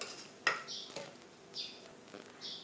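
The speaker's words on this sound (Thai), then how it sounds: "คนให้เข้ากันก่อนค่ะ" Liver salad (lap tap wan) being stirred in a pot, giving a few soft clinks and scrapes of a utensil against the pot at spaced intervals, close and fairly quiet, with a light swishing of the mixture between them.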